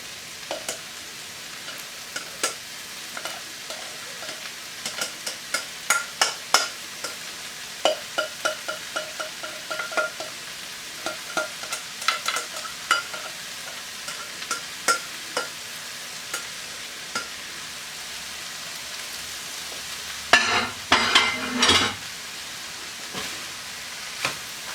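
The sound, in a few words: pork fried rice being stir-fried in a pan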